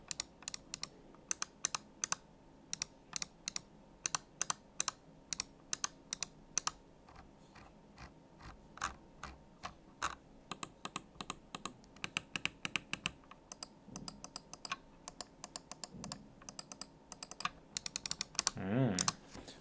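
Sharp clicks from a Razer DeathAdder V2 Mini compact gaming mouse, fired in irregular quick bursts, close to the microphone and alone in a quiet room with no talking.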